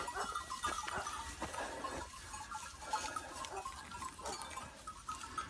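Sheep and goats grazing in a cherry orchard bleat repeatedly in short, scattered calls over soft outdoor background, moderately near, with no talking.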